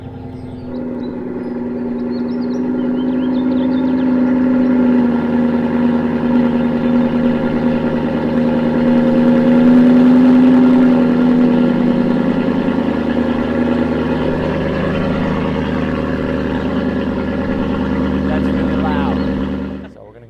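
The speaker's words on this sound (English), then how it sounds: "And we're gonna give you a cold start. I think the valves should be open right now." A BMW M3 engine cold starts and holds a loud, steady high idle with the exhaust valves open, a deep droning rumble running throughout, with a voice talking over it.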